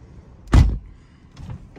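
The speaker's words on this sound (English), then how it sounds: "It is a really, really nice sounding door. It has a, you know, a harder thunk to it" A single solid thunk as a Mercedes E400 coupe door shuts, low and heavy, followed by a faint rustle in an otherwise quiet space.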